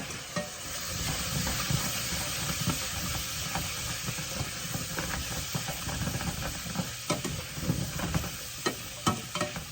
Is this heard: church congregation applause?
no